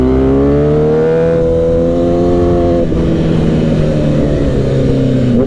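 A loud motorcycle engine revs with a rising whine that peaks, then settles into a steady, gritty drone, close and dominant throughout during a street drag race of a ZX-10R, Streetfighter V4, ZX-6R and Z900.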